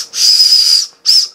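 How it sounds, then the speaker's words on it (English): A small emergency whistle built into a Zanflare F6 flashlight is blown twice, a breathy, airy shrill blast followed by a shorter second toot, close and loud. "Not the loudest whistle, not the greatest whistle, but it is a whistle."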